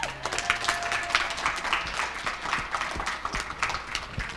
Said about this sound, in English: Will you guys give me a round of applause?